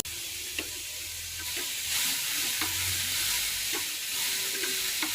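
Onion, garlic, chilli and tomato frying in oil, a steady close sizzle and hiss with soft scraping as the pan is stirred, moderately loud with no talking.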